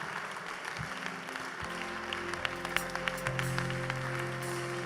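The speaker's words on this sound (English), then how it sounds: "Clap your hands, pray." A congregation claps during prayer, with scattered hand claps growing into a steady round of applause that sits under a low murmur of voices and some tonal sound.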